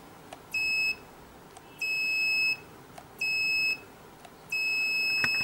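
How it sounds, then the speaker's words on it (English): A homemade infrared-beam security alarm built from an old remote sounds four shrill electronic beeps, each lasting under a second, spaced evenly with short gaps of quiet between them. "If somebody obstructing this IR beam, the receiver is not receiving any IR light,"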